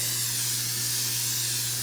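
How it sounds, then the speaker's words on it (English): Cooking spray sprayed onto the bottom of a small deep-dish baking dish, a steady close hiss held for about two seconds over a low background hum, with no talk. "I'm going to spray it on the bottom with cooking spray."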